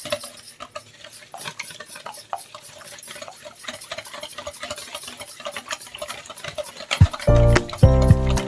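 Cake batter being whisked until foamy in a bowl for an oven-free homemade cake, a steady busy scraping and stirring patter, close and continuous, ending with a few louder clanks and knocks.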